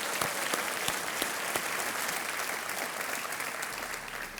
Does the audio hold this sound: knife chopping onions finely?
no